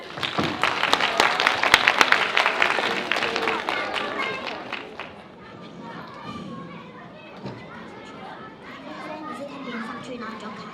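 A primary school audience claps for a children's English performance, a dense burst of applause for about five seconds that thins into children's chatter and movement.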